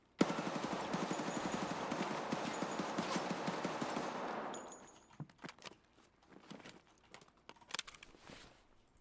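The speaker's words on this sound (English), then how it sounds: "We fighting Sturman with an SMG." Submachine gun fire in a Tarkov shooter game fight, a dense rapid rattle of shots for several seconds that then breaks into scattered, sharper bursts and single cracks.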